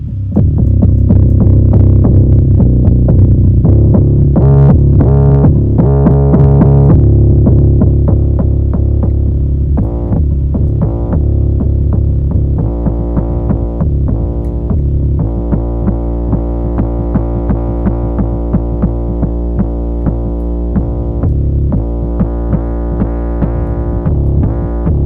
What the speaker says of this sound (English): So I'm gonna go to distortion, and I'm gonna just do like a, probably overdrive is fine